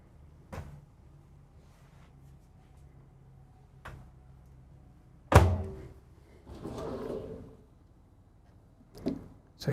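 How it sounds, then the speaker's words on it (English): A large soft-closing drawer in an RV kitchen, a few faint knocks followed by a firmer thud, a soft sliding rush as the drawer glides shut, and a last light bump. "It's a huge drawer right here. Soft closing."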